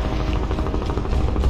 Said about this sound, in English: Oh shit, you're in a fucking helicopter.